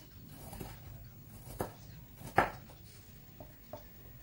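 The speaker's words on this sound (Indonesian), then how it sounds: "Setelah itu aku iris bawang putih, aku pakai 1 siung." A knife slices a single clove of garlic on a board in a kitchen, giving a few soft, sparse cutting taps against a quiet background.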